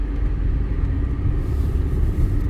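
A 2004 Mercedes-Benz E320 (W211) with 228k miles cruises along, its low, steady road and engine rumble holding even throughout with no voices.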